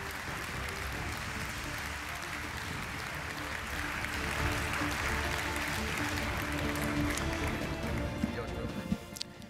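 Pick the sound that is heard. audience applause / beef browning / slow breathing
audience applause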